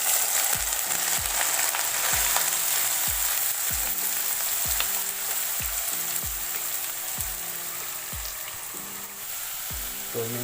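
Bamboo shoots frying in a kadai, a loud continuous hiss and crackle like heavy rain, with a regular series of low thumps running beneath it throughout.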